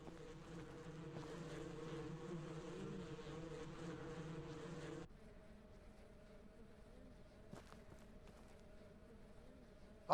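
Bees buzz in the farming game Ranch Simulator, a steady layered hum that runs loud for about five seconds and then drops to a quieter drone for the rest, with no talking.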